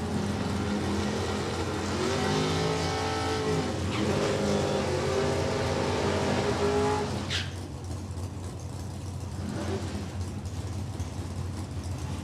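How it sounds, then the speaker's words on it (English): A 1992 Ford Probe and a 1968 Chevrolet Camaro roadster rev at an NHRA drag strip, with loud engine tones rising and falling over several seconds before easing into a steady rumble. "92 Ford Probe there for Jerry. Don Gutierrez, 68 Chevrolet Camaro Roadster."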